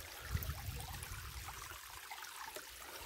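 Faint, steady trickling of a small stream running down a dry hillside gully, a soft continuous burble with a brief fuller splash early on.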